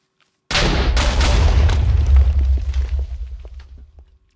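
A spell-cast explosion in Minecraft hits suddenly with a deep booming blast after a brief silence, followed by a few sharp cracks and a rumbling decay that fades out over several seconds.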